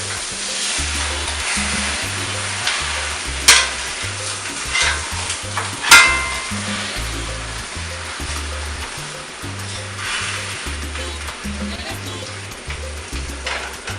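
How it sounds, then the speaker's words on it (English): Butter sizzles and fries in a pan, browning toward burning, with a steady crackling hiss and intermittent low stirring or scraping knocks, plus a couple of sharper clicks, close and fairly loud. "you can smell the butter burning just a little bit, and you check every once in a while"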